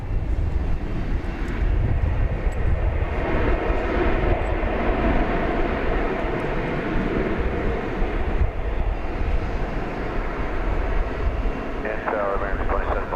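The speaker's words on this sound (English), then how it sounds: "Buttery tri-jet landing that we do not see very often." A tri-jet airliner lands at DFW airport, its engines a loud continuous roar with broad rumbling throughout. Faint radio chatter and a voice sit underneath.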